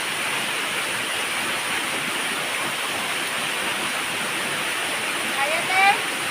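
Banayan Falls in Davao Oriental roars as a steady, dense rush of falling water close by, constant and loud, with a faint brief whistle-like sound near the end.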